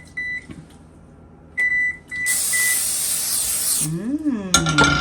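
A steady hissing spray of corn oil onto a plate lasts about a second and a half, preceded by electronic beeps, with a voice speaking briefly afterward.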